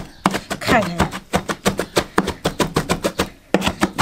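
Roasted chili peppers chopped finely on a board with a cleaver, a loud, close series of rapid, steady chopping strikes with brief pauses.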